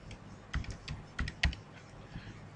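A computer keyboard clicks in a short, uneven burst of keystrokes as a password is entered during a Moodle 2.5 install, faint and close, with pauses between taps.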